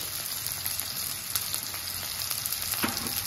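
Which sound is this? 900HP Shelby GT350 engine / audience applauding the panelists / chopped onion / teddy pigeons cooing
chopped onion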